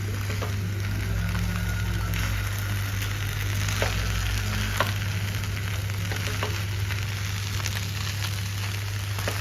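Sabudana khichdi fries steadily in oil in a pan, a continuous close sizzle with occasional faint clicks of stirring, no talk heard.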